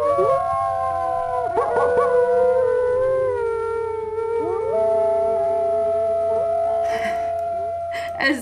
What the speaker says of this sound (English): As if we didn't get enough wolf howls in the opening credits, we also get them now.